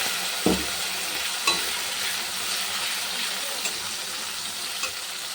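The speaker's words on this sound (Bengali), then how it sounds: "এই মশলাটা দিয়ে দিলাম" Spice paste frying in oil with potatoes hisses steadily at close range, punctuated by about five spaced knocks and scrapes of a spoon stirring the pan.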